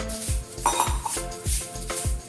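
A spoon stirs dal with turmeric, salt and a little water in a metal pot, making rhythmic, close scraping clinks against the pan about twice a second.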